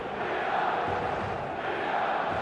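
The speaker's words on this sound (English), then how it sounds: "The stadium is full of noise and energy." A full stadium crowd in the eFootball video game sends up a steady, loud wash of roaring and chanting that stays dense and unbroken throughout, without any clear individual voices.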